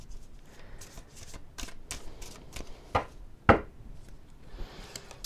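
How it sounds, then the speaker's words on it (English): A deck of tarot cards is shuffled close up: a run of crisp riffling and slapping bursts, with a couple of sharp louder snaps partway through, and no talking. "Let's just shuffle this up and let's get another one out."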